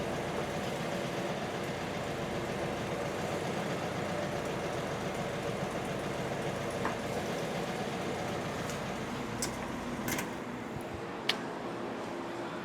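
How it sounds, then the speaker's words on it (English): A 1971 VW bus engine idles steadily with a low, continuous rumble, joined near the end by a few faint clicks and knocks, with no talking. "Engine was still idle."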